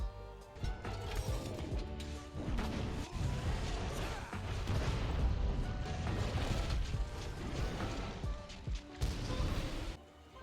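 Gunlance attacks from Monster Hunter, a dense run of metallic clanks, heavy impacts and booming blasts layered over a steady game soundtrack, continuous and loud throughout.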